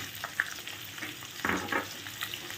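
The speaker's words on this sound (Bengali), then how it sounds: "এই যে পেঁয়াজটা যে আমি কুচিয়ে রেখেছি পেঁয়াজগুলো দিয়ে দিচ্ছি" Chopped onions fry in hot oil, a soft sizzle with stirring scrapes and a few sharper bursts as they are tossed, fairly faint and without talk.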